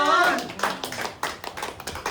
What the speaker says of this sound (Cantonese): 我哋俾啲掌聲啊嚇